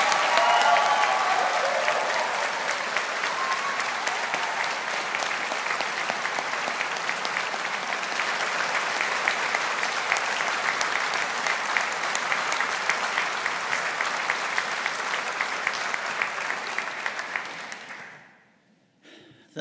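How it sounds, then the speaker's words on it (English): A large audience at a university graduation ceremony for the class of 2022 applauds in a dense, steady roar of clapping that holds for about eighteen seconds, then quickly fades to near silence. "let's give a round of applause to our class of 2022."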